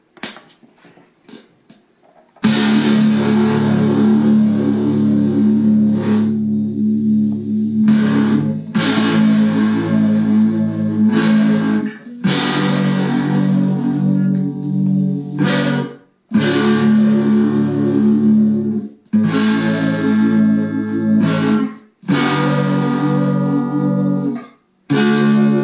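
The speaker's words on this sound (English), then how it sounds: "as another example, I want to do phaser." Electric guitar played through a GuitarPico phaser effect, distorted chords ringing in sustained strums with a sweeping swirl, broken by brief pauses between phrases and sounding loud and close.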